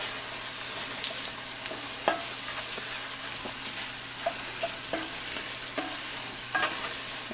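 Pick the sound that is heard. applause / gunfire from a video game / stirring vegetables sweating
stirring vegetables sweating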